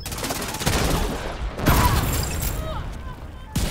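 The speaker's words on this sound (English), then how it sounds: "I'm doing explosive damage with my artillery turret" Rapid bursts of explosive gunfire and mechanical clatter from an artillery turret in the video game The Division 2, several volleys in quick succession with booming impacts and a busy mix of game effects.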